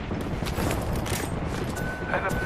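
Thermite grenade burning in the shooter game Apex Legends, a dense crackling, popping roar filling the whole clip alongside bursts of gunfire, loud and close.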